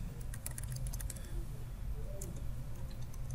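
Keys clatter on a computer keyboard in quick, light taps with short bursts and pauses, faint and close against a low steady room hum.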